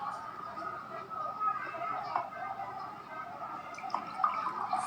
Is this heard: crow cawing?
no